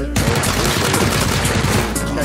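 Rapid bursts of automatic gunfire in PUBG, loud and close, rattling steadily with little pause, with a voice briefly talking under the shots.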